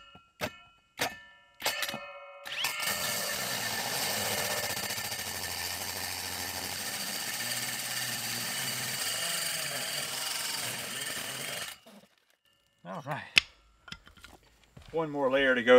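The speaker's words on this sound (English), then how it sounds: "I'm gonna line up my drill bit and get this cut on through." A power drill with a 6-inch bit cuts a hole through the wall of a building, making a steady, loud grinding whir for about nine seconds after a few short taps, then stopping, followed by scattered clunks.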